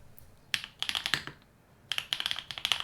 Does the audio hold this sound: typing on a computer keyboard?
yes